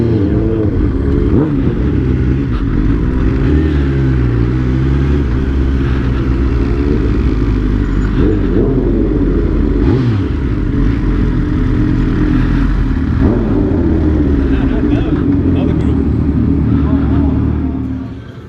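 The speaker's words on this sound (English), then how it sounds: "Put Max's bike on the dyno, see what we got" A Kawasaki H2 motorcycle revs hard on a dyno, its loud engine note rising and falling steadily for the whole run before easing off at the end, heard close up.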